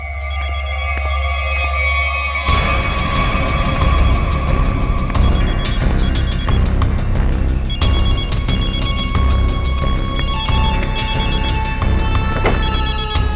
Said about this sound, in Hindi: घंटी तो बज रही है, फोन का यहीं आसपास है